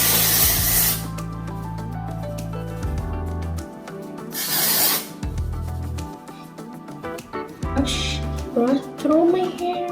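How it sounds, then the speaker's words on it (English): Bursts of dry shampoo aerosol spray hiss onto hair, several short blasts spaced apart amid rubbing and handling noises, with a quieter spray near the end. "I'm gonna apply some dry shampoo first."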